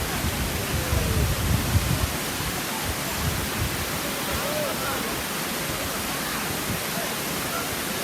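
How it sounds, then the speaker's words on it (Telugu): The large Kottapalli waterfall near Paderu roars in a constant, full wash of rushing water, loud and unbroken, with a brief murmur of voices near the start. "చాలా పెద్ద జలపాతం"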